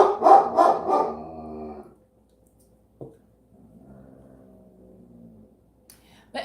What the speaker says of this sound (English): she goes on her little barking tirade